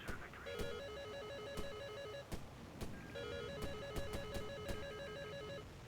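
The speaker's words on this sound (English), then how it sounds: "Okay, we did hear that missile." In War Thunder, an incoming missile warning beeps in two rapid, pulsing bursts of electronic tones inside a jet cockpit, faint over rumbling engine noise and scattered clicks.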